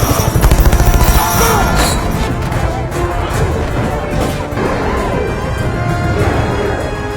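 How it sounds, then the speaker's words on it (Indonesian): A chaotic film action soundtrack with a loud crash and rumbling booms as a helicopter hits a bridge and explodes, its drone mixed into heavy, continuous noise. "gorila melompat ke helikopter yang menyebabkan menabrak jembatan dan meledak"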